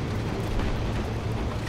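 Explosions rumble in Battlefield 3 on the Caspian Border map, a continuous low, dense roar of distant blasts over steady battlefield noise.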